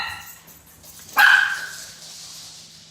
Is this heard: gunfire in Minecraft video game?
no